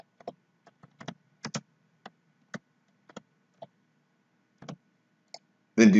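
Computer mouse clicks and keyboard typing while entering a building address into a recycling bin manager program, sparse close clicks and taps spread out with pauses, ending in a brief dense burst of rapid keystrokes.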